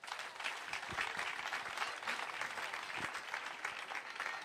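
A crowd applauds steadily throughout, a dense wash of clapping at moderate distance, with a few louder claps standing out.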